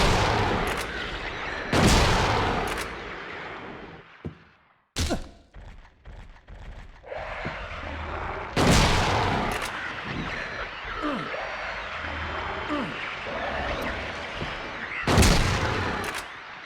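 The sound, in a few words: shotgun firing in Silent Hill 2 video game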